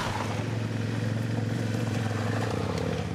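KTM 390 Adventure motorcycle riding past outdoors, a steady engine drone at moderate distance with no talk over it.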